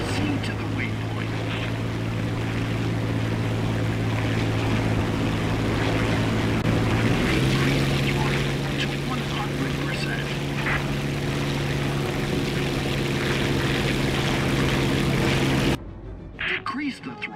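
Steady droning propeller aircraft engine in War Thunder, a continuous tonal hum that shifts pitch upward partway through as throttle rises, loud and constant before cutting off near the end.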